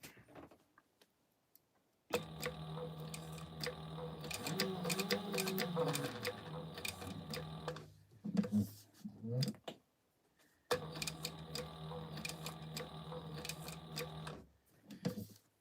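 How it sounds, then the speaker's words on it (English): A sewing machine top stitching a fabric tag on a Morning Glory pouch runs in two long bursts of rapid mechanical ticking with short pauses between, and a voice talks briefly partway through. "I usually start in the middle when I'm top stitching my tags"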